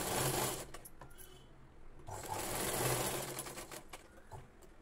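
A sewing machine stitches the nada strip of a Punjabi dress bottom, running in steady whirring bursts that briefly pause and restart, close by with no talking.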